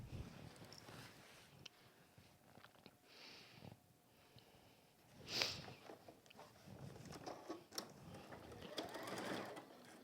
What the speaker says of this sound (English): on this one, we can sew all the way across